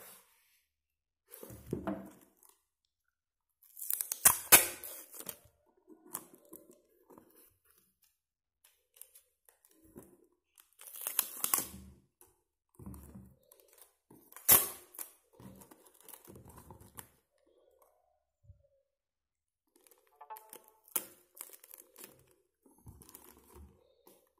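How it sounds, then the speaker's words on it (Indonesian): Packing tape is torn from the roll and pressed onto a parcel being wrapped around an aglaonema plant for shipping, giving short bursts of ripping and crinkling separated by quiet pauses. "dan selanjutnya kita pakaiin lakban lagi"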